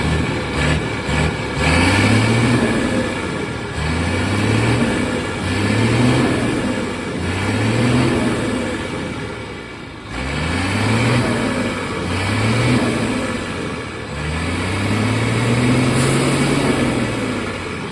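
A pickup truck's turbocharged engine revs in repeated rising pulls, about every two seconds, loud and close, with a steady turbo whine over the low engine roar.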